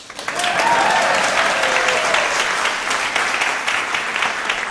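Applause from an evening audience swells quickly and holds steady, a dense wash of many hands clapping close by with no voices over it.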